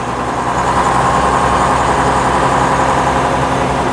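A 1956 Daimler double-decker bus with a pre-selector gearbox drives along, its engine droning steadily at close range with a constant heavy mechanical hum and no voices.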